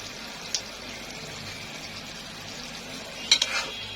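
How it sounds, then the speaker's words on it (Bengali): Soaked, pounded dried fish (shutki) sautéing in a pan gives a faint, steady sizzle with a few sharp clinks of a spatula near the end. No one speaks. "এখন শুটকিটা ভালো করে কষে নেব"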